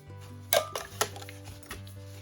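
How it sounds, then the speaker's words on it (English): A 32-ounce Nalgene bottle handled inside a nested titanium camping cup, giving a few sharp metallic knocks and clinks spaced over a couple of seconds against a quiet background. "It's just an Nalgene bottle, 32-ounce Nalgene bottle. and it's nested in a titanium cup."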